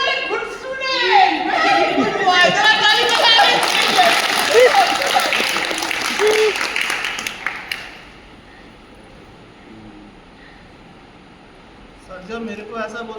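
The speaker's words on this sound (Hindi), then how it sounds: "जरा ताली बजा दीजिए।" Audience applause at a staged school drama performance, loud and continuous with voices and cheering mixed in, breaking off after about eight seconds into quiet with faint talk.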